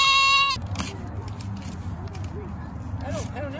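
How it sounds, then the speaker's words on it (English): A goat on a farm during pumpkin carving, with a single loud, close bleat at the very start, followed by low rustling and quieter bleats under a person talking. "Oh, you are a beautiful little goat."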